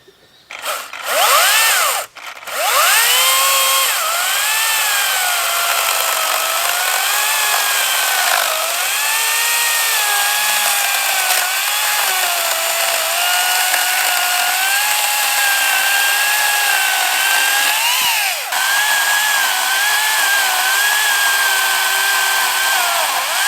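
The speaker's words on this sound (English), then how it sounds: "The boys gave me this Makita electric chainsaw. First time I get to use it, so I'm just going to chop up some wood," A Makita electric chainsaw cuts firewood, its high motor whine running loud and close for most of the clip, the pitch rising and dipping as the blade bites, with a short break near the start and another brief drop near the end.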